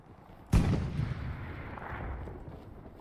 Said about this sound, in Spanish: Ya sentí un balazo.